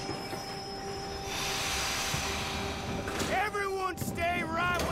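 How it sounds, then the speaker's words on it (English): A steam-era train pulls into a station in Red Dead Online, wheels squealing loudly in rising and falling tones over a steady rumbling roll, with a voice talking nearby. "Train's coming in."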